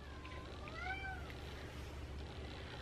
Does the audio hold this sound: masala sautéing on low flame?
no